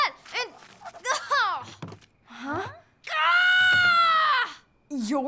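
Animated cartoon characters shout and scream in an excited Peter Pan scene, with one long, loud, sustained high scream in the middle between bursts of frantic voices.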